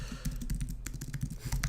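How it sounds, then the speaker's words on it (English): Fast typing on a computer keyboard, a close, dense run of clicking keystrokes with brief pauses, heard alone. "If you guys want it, let me type it in here."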